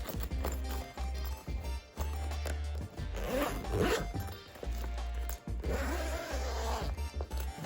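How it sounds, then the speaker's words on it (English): A zipper on a Magnus VT 300 bag is pulled open in several short, close, rasping runs with brief pauses and some rustling of the bag between strokes. "let's go ahead and give this an unzip and check out what we got here"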